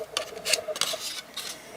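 Snips trimming a plastic body part for a 1955 Chevrolet Sedan scale model, grafting in Nomad wheel wells; several short, crisp clicks and scrapes spaced unevenly, close and fairly quiet, with no talking.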